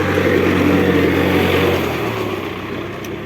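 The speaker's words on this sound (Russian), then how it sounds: "Вот такие трактора здесь бегают маленькие." A small tractor drives past on a Moscow street where landscaping work is under way, its steady mid-pitched engine drone loud and close at first, then easing slightly as it moves away, with no talk.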